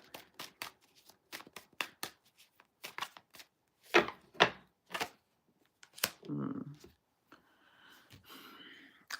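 Tarot cards shuffled by hand in quick bursts of crisp riffling and slapping, with a few louder flurries and pauses between, close up and mostly on their own.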